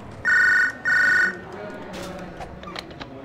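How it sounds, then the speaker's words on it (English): Two loud electronic telephone rings from the MDickie game Hard Time III, each about half a second with a short gap, followed by faint background sounds. "Can I answer this phone?"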